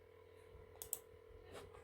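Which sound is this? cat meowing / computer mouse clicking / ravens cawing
computer mouse clicking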